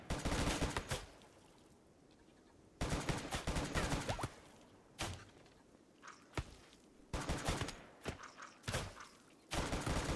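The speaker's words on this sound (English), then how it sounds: "considering we're just using assault rifles" Bursts of assault rifle fire in the colony-building game Rimworld, loud broadband volleys of several seconds separated by quieter pauses with a few single shots and faint footsteps.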